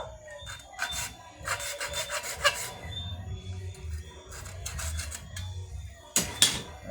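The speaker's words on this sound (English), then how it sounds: "Very gently with my hacksaw." Hacksaw gently cutting PVC pipe, quiet bursts of rasping strokes in short uneven runs, close up with faint handling noise between them.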